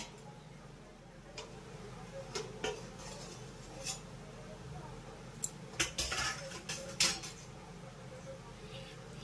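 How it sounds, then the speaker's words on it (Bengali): A metal lid is lifted off a steamer pot of bhapa pitha made with palm and semolina, heard as scattered light clinks and taps that bunch into a clattering cluster near the end, with quiet voices in the background. "এবার ঢাকাটা তুলে নিচ্ছি"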